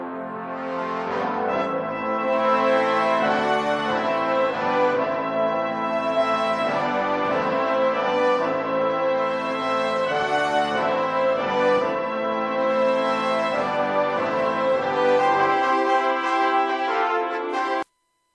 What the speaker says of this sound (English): if we listen to just the Cinebrass brass, it sounds like this